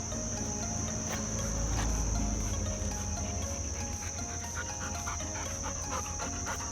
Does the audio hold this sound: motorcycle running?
no